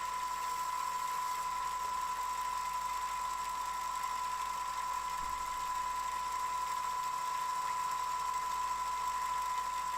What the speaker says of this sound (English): I am sanding pegs for a board game that don't quite fit into the board game